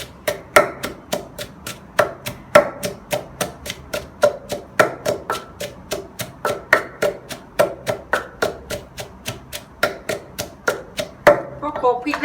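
Roasted chilies are pounded in a mortar for a spicy Thai tomato dipping sauce, a steady, rapid run of sharp, close thuds at an even beat, with brief speech near the end.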